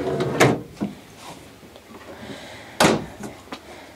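Drawer in the closet of a 2014 Winnebago Minnie Winnie motorhome opening and closing, giving two sharp close knocks separated by a pause, with smaller rattles and taps between them and no talking.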